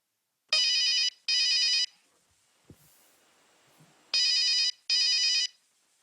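A telephone in a Pakistani drama scene rings in two double bursts, each a pair of loud, bright electronic trills separated by a quiet pause, with no talk over it.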